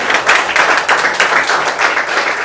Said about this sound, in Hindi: आप अपने आप पर एक ताली बजा दीजिए